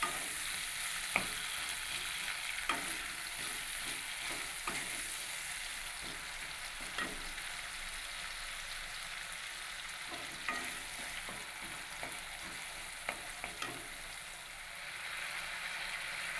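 Tomatoes with a little salt fry in a pan with a soft, even sizzle and occasional light clicks of a spoon stirring, fairly quiet, no voices.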